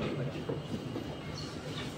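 Singapore automated metro train pulling away from a station, heard from inside the carriage as a steady low rumble with soft rail rattle throughout, fairly quiet and unbroken.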